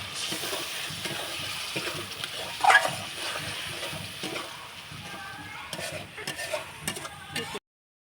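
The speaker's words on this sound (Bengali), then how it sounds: "এখন দিয়ে দেব মশলা ধোয়া জল এখন ভালো করে কষিয়ে নেবো" Spice paste stir-fried with a splash of spice-rinse water for prawn malai curry, a continuous bubbling sizzle with irregular scraping of a spatula in the pan, moderately loud, then cutting off abruptly at the end.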